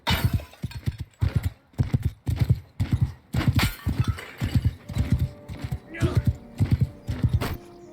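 Galloping horse hooves beat in a steady, loud rhythm with a whinny mixed in, set in the medieval combat game Mount & Blade II: Bannerlord, while someone talks over the action.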